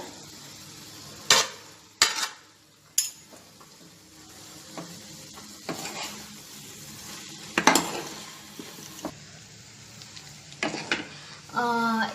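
Cooked rice is stirred into veg biryani in a pot, heard as scraping spoon strokes and sharp metallic clinks against the pot over a low sizzle, in irregular bursts with quiet gaps and no talk.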